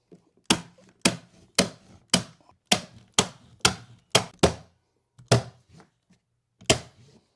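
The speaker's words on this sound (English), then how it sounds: "get our gun under the nose, staple every inch or so you create a nice groove" A staple gun fires into a carpet runner folded over the nose of a stair tread, eleven sharp, evenly spaced clacks ringing out alone with brief pauses between them.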